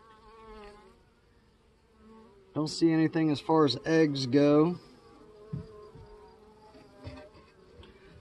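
Honey bees, a mix of Carniolan, Saskatraz and VSH stock, hum steadily around an open Langstroth long hive with fresh comb, a soft continuous drone beneath someone talking close by.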